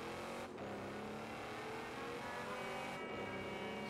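Steady engine drone of a car cruising between events in Forza Horizon 3, a continuous loud hum with two brief dips like gear shifts.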